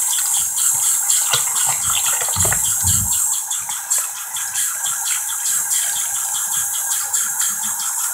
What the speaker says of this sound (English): I'm gonna turn off the water for right now.